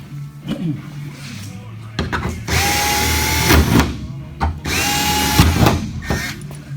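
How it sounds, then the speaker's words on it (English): After some low voice and handling noise, a power drill whirs loudly in two long bursts, drilling holes in a carbon bicycle front end for a titanium tree with a high, grinding whine. "Go ahead and drill all the holes."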